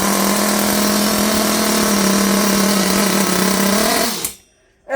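A Hotbodies Dirt Demon nitro RC car engine runs at a loud, steady high-pitched buzz for about four seconds, then cuts out suddenly into near silence.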